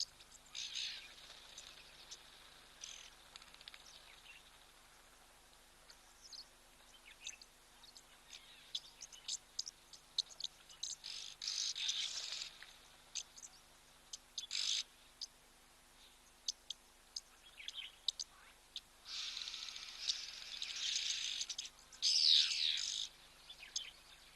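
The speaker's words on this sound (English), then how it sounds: "there's a lot of bird activity today" Birds chirp and call around a waterhole in the wild, many short tweets and trills scattered through a quiet open-air background, some close and others distant.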